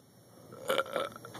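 A burp erupts from a person during a gross, messy moment, coming as a couple of short, close guttural bursts over a quiet background.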